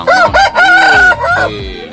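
A Bangkok rooster crows loudly and close by at a chicken market, a strained, drawn-out call in a few broken segments.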